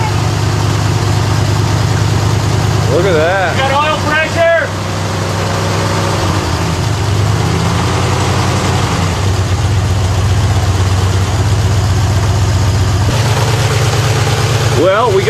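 A 1947 Ford engine, started for the first time after 31 years, idles steadily with a deep, even rumble at close range, and a voice is briefly heard over it.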